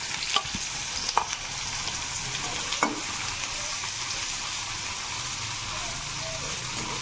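Chopped onions sizzle steadily in hot oil in a pan for a chicken sandwich filling, a constant close frying hiss broken by a few sharp utensil clicks near the start.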